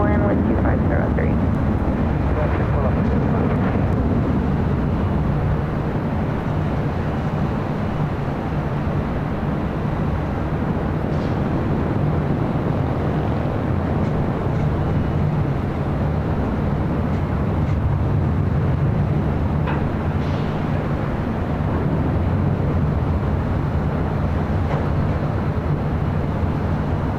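A jet airliner landing on runway 24 left at Los Angeles International Airport, heard as a loud continuous low roar that holds steady for the whole stretch, with radio chatter faintly underneath.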